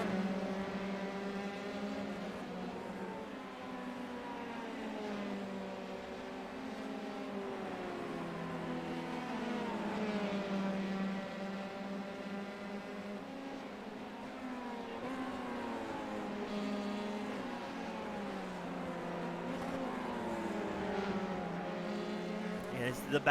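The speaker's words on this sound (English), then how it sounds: "As Russell Soto, your race leader, gets ready to come by the start-finish line for the final time" Formula 3 race cars in a racing video game at the Circuit de Spa, a steady layered engine drone with shifting pitches as cars pass the start-finish line, continuous and fairly loud beneath a commentator's voice.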